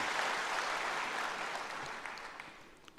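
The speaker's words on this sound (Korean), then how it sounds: "박수 한번 치세요" A church congregation bursts into applause after a hymn, a dense roar of many hands clapping that starts loud and slowly tapers off, with a few stray claps at the end.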